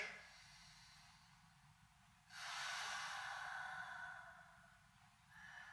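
Slow, deep abdominal breathing during an evening restorative yoga practice, a soft airy inhale or exhale swelling up midway and easing off, quiet and close with no talking.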